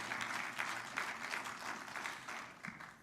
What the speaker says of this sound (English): Can we all hear a round of applause for President Trump